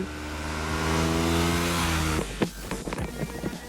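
A Kawasaki Z300 motorcycle engine revs up loudly and steadily for about two seconds, then drops off into a rougher, lumpy idle with uneven bursts.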